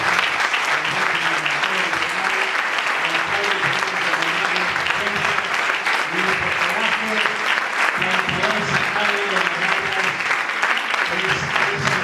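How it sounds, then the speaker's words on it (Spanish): Sustained applause from the audience at a talk on health systems, dense clapping throughout with a speaker's voice audible over it. "no quiero empezar sin pedir un fuerte aplauso para la libertad de Milagros Salas"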